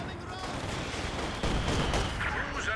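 ZiS field gun fire in Company of Heroes 2 battle: a dense run of sharp gunshots and blasts over rumbling combat noise, growing louder midway through.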